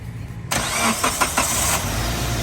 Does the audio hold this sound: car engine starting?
yes